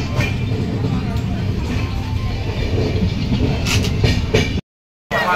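A train pulls into Goregaon station, with a steady rumble and faint rattling heard from inside the carriage, people talking over it, and a brief cut to silence near the end.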